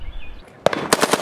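A .380 pistol is fired outdoors: a quiet moment, then a quick burst of several sharp, loud cracks close together.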